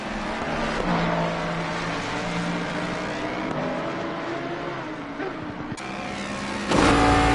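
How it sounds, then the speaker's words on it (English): Onboard a Ford Mustang GT3 with a V8 engine in a racing sim, the engine drones loud and close with rising revs and sharp gear shifts, dipping on lifts before surging again. "Go on board with the Mustang. It's less sound, you know, in the Mustang, less V8."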